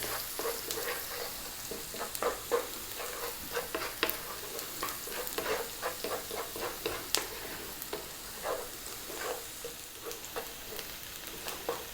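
Salt, pepper and green cardamom powder fry in a pan over fairly high heat for an Indian vegetarian rice dish. A steady sizzle runs under repeated scraping stir strokes, close and fairly quiet, with no talking.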